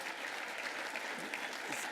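Audience at the Stratford Gala award ceremony applauding steadily, a dense wash of clapping from a large crowd throughout.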